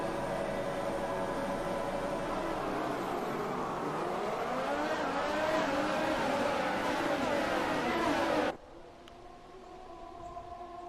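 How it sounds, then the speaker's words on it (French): Race cars starting a Grand Prix at Paul Ricard in the F1 2018 video game, a dense, loud whine of engines rising in pitch as they accelerate, then abruptly dropping to a quieter hum. "Le départ de la course, et c'est parti."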